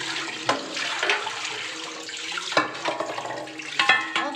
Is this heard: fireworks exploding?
no